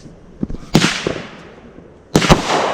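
Fireworks bursting outdoors, with a pair of sharp pops early on, a loud crackling burst near the middle and another strong double burst near the end, each trailing off into crackle; people's voices are faintly audible.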